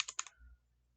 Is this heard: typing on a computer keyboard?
yes